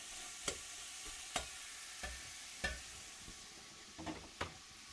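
Ingredients for bigos, a Polish sauerkraut stew, gently sautéing in a pan: a soft, low sizzle broken by several sharp scraping and tapping strokes of a utensil.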